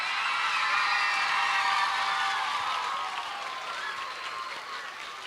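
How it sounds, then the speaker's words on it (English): Loud, dense audience applause at a school Safer Internet Day assembly, steady for several seconds and then easing slightly toward the end, with no talk over it. "please give a loud round of applause for Makiba"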